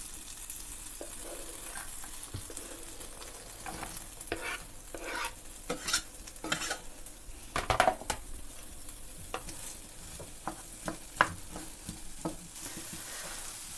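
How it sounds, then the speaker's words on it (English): Onion and garlic sauté in butter in a skillet, a soft steady sizzle broken by scraping, clattering stirring strokes at an irregular pace, close up with no voices. "And lightly fry this onion and garlic in the butter."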